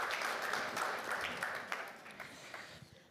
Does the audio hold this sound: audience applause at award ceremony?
yes